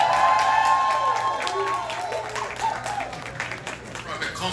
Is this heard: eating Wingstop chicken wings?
no